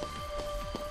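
Steady rain weather in the video game Final Fantasy 13, a soft continuous patter of drops on surfaces with a faint background tone, heard alone.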